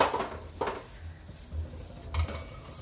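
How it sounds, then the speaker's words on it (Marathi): Gram greens being stirred in a pot over a low flame, with a few quiet clinks and scrapes of a spoon against the pot spread across a faint, calm background. "आता आपण भाजी हटून घेऊ। गॅस जरा कमी करते आणि कमी गॅसवर हटायचं।"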